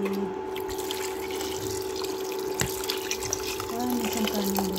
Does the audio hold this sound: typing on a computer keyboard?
no